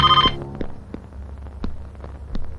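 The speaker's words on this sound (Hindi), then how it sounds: "आंटी फोन की घंटी बज रही है" A telephone rings in a home, one electronic ring tone at the start followed by faint scattered knocks and clicks.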